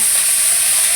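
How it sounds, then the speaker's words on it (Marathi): Cluster beans (gavar) frying in oil in a pan, a loud steady sizzle with a bright hiss heard close up and alone. "आता आपण याच्यावर तेल टाकून घेऊ, म्हणजे गवारी छान भाजते"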